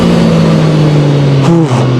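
A Zontes 703RR motorcycle engine drones loud and close as it accelerates, its steady tone climbing and then dropping briefly as if through a gear change.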